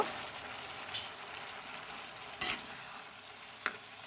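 Fried cauliflower being tossed with spices in a pan for vegetarian chilli cauliflower, a quiet steady sizzle broken by a few sharp scrapes of a spatula, with no talking.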